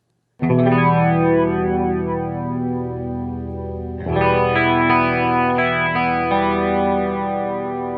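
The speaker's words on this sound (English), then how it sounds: "So with the enhance or feedback all the way down, it really sounds more like a chorus." Sustained electric guitar chords through a flanger pedal set to a chorus tone, with a swirling, shimmering modulation; one chord rings out, then a second strummed chord takes over and sustains.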